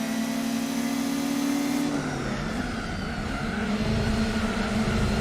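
Racing car engines roar continuously in Gran Turismo 4 as a car tucks into the slipstream of a Honda Civic Type R, a loud steady drone whose engine pitch shifts midway.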